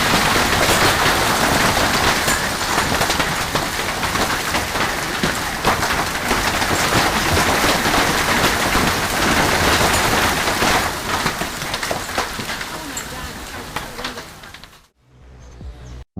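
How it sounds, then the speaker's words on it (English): A heavy Arizona hailstorm drums down as a dense, loud, continuous roar of large hailstones striking surfaces. It fades slightly near the end before cutting out abruptly. "Hail the size of golf swords."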